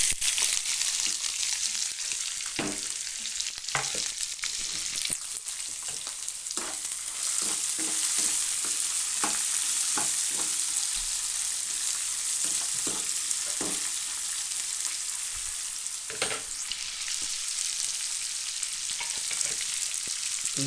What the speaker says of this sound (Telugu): ఇప్పుడు ఇందులో ఈ ఉల్లిపాయ ముక్కలు వేసుకుందాం